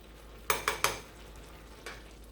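A spoon scrapes and knocks in a pan of boiling black-eyed peas: three quick close strokes, then a pause and one lighter stroke over a low bubbling background.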